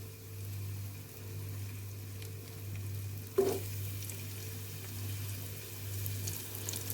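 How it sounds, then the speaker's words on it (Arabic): Onions fry in hot oil in a pot for one-pot koshari, a faint sizzle sitting over a steady low hum. One brief knock or clatter falls midway, and no one speaks. "هنبدأ اول ما الزيت يسخن ننزل بالبصل بتاعي"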